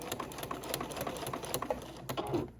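Sewing machine stitching through a paper foundation pattern at a short stitch length for a paper-pieced star block, a steady close, rapid mechanical patter lasting the whole moment with slight pauses near the end.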